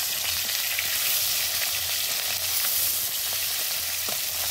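Small chela fish fry in a pan with a steady, close sizzle and crackle, a few faint clinks as the fish are flipped one by one.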